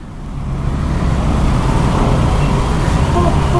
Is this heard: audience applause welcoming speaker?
no